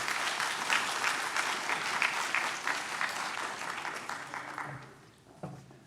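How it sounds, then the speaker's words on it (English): Audience applause at the opening of a pandemic policy event, a dense steady wash of many hands clapping that fades near the end as a voice begins to speak. "Please, a round of applause."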